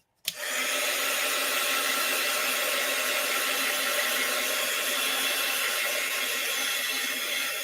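Hair dryer blowing on a wet watercolor painting switches on abruptly and then runs as a steady, close, loud airy whoosh with a constant motor hum throughout.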